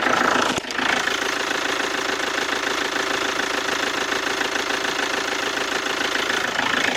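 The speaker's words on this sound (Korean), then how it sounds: "엔진 은 열었고요 소리 한번 들어볼게요" A Kia New Sportage SUV engine idles steadily and close with the hood open, a continuous rumbling drone with faint ticking, after a brief dip near the start.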